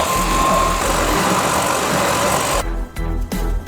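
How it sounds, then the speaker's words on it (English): A jigsaw with sandpaper taped to its blade sands with a steady, loud motor buzz, turning choppier and more uneven in the last second; no one speaks. "Apply some double-sided tape and sandpaper to the jigsaw blade like so. Now we can sand using our jigsaw."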